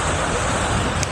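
Rough, choppy lake water with a strong current washes in at Port Stanley beach at night, a dense steady roar of surf blended with wind noise.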